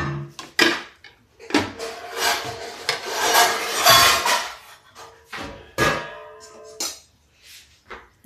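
Bottle gourd being grated on a large-holed kitchen grater, rough rasping strokes in uneven bursts with pauses and occasional knocks between them.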